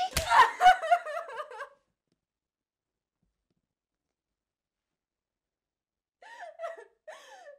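A sharp smack lands amid an agitated vocal outburst, then several seconds of silence before brief voices return.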